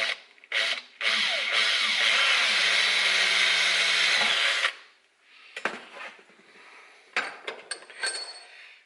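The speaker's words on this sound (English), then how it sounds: "I'm just going to drill the other nut out." A power drill whines loudly for several seconds, then stops, followed by short bursts of drilling and metallic clinks, drilling out a nut on a Lambretta scooter build.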